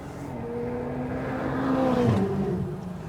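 A Porsche GT3 RS race car accelerates on a Texas track day, its engine holding a steady, moderately loud drone that climbs in pitch and swells toward the middle before easing slightly, with no talk over it.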